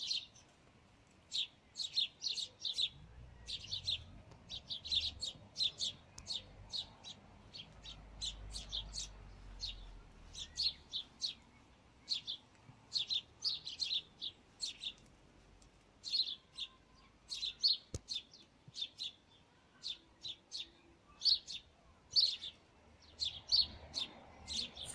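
Sparrows chirp in Victoria Park, Waterloo, Liverpool, with short, bright tweets repeating in quick irregular bursts throughout. They sound faint and a little distant over a quiet, low outdoor background.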